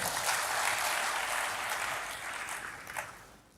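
A church congregation applauds God, a broad steady wash of clapping that swells early, then gradually thins and fades out.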